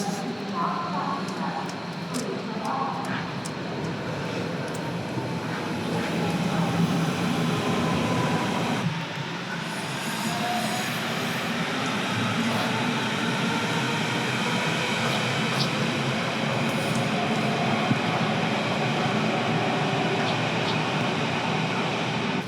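Steady rumble and broad ambient noise on a train station platform in Germany while waiting for a train, a continuous wash of rail and crowd sound with no distinct events.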